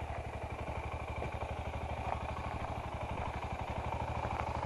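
A motorcycle engine runs steadily at low revs during adventure riding training in Labertouche, Victoria, a continuous close, even throb with a faint mechanical clatter and no one talking over it.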